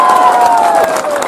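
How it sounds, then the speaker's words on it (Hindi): A large audience applauds and cheers, dense and loud, at a stage appearance by Navjot Sidhu after he calls for a round of clapping for Kirti Azad. The sustained clapping and crowd noise fill the whole short moment. "ठोको ताली इसके लिए"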